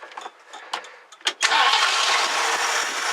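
A 1969 Ford Econoline party van engine cranks in a few short bursts, then catches and fires up into a steady, loud running roar that continues to the end.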